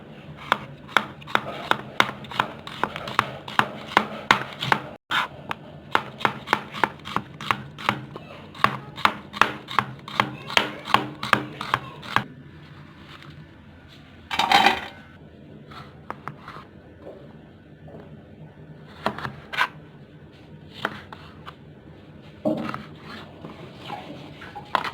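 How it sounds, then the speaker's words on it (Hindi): Onions are chopped with a knife on a board in a fast, even run of crisp close chops that stop abruptly, followed by a quieter stretch with a few scattered cuts and knocks. "प्याज काट लेंगे गाइस।"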